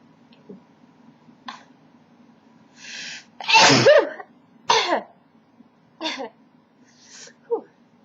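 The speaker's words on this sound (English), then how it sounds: "That was a really good sneeze." One person builds up with several short breathy gasps and snorts, then lets out a loud, forceful sneeze, followed by a few more gasping catches of breath, all close and with no talking.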